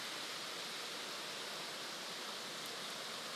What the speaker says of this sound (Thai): ฝนมันตกโผล่